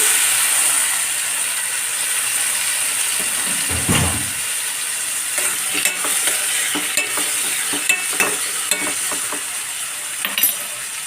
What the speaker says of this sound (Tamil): இதெல்லாம் கொஞ்சம் நல்லா வதக்கிடுவோம்.